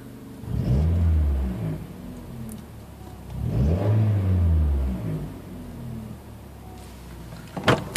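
A Mazdaspeed Protege on its factory exhaust revs twice from idle, each a deep swelling rumble that rises and falls over about two seconds, near and moderately loud, with a brief clatter at the end.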